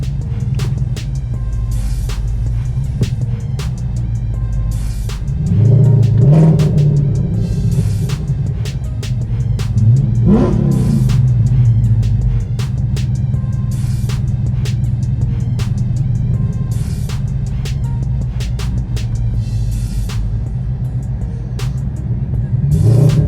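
A powerful Ford Mustang engine idles with a deep, loud rumble, then revs up sharply twice before settling back to a heavy drone.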